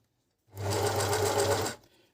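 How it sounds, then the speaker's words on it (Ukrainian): A Beckmann sewing machine stitches in one steady mechanical burst of about a second, a fast whirring rattle that starts and stops abruptly, close and loud in a quiet room. "Це я так намагаюся ну, налаштувати, щоб машинка шила."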